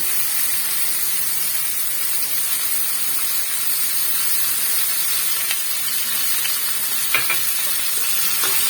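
Potatoes, peas and chicken fry in hot oil over spiced masala, giving a loud, continuous close sizzle with a few faint clinks near the end.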